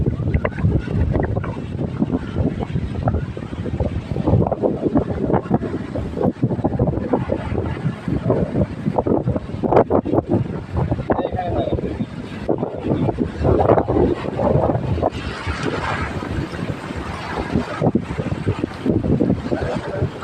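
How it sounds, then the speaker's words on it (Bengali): Sea waves roll in at Cox's Bazar under heavy, gusting wind that buffets the microphone, making a dense, continuous roar with no voices. "আমরা সমুদ্রের একটু ঢেউ দেখি।"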